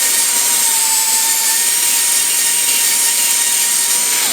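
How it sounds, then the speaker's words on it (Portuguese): A high-speed dental drill with a rounded-tip bur cuts a metal-ceramic crown preparation, giving a loud, steady, shrill whine that runs unbroken from start to finish with no talking. "usar essa broca, ó, por ela ter a ponta arredondada, para fazer o término"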